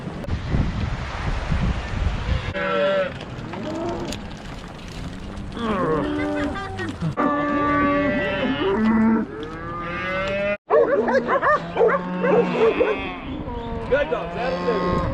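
Cattle moo on a 25-mile cattle drive with mules, several long overlapping bellows from a herd near and farther off, over wind noise and a low rumble.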